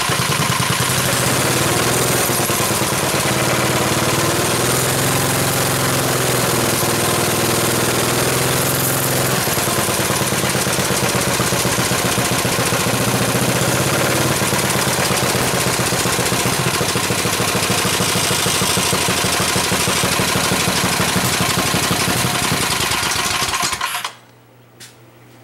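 Homemade go-kart engine running hard through its gears, a loud sustained drone that shifts pitch as it climbs and settles, running steadily for over twenty seconds before cutting off suddenly into near silence.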